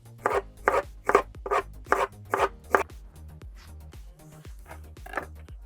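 A knife slicing through a trimmed pineapple into quarter-inch-thick pieces, a quick run of about eight crisp cutting strokes in steady rhythm, then slower scattered cuts, close and clean without talk.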